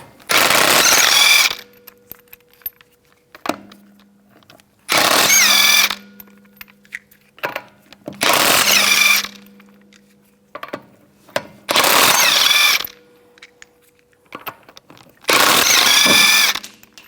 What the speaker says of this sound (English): I'm going to use a 19mm socket, take the lug nuts off.